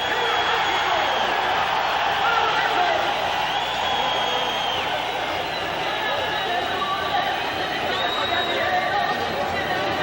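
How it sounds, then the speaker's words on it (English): A boxing arena crowd roars for Julio Cesar Chavez, a dense, steady wall of cheering and babble that stays loud and unbroken throughout, like pandemonium around the ring. "The adulation of the crowd,"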